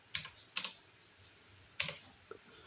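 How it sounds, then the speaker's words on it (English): Several separate keystrokes tapped on a computer keyboard while typing in a chat program, sharp close clicks spaced unevenly with short quiet gaps between them. "We can just type it in."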